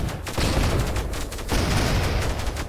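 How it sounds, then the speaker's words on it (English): Sustained volleys of gunfire from submarine launchers in the video game Octogeddon, loud and dense, with a brief gap midway before the barrage resumes. "It almost sounds like our guys started shooting quicker as soon as they saw that message."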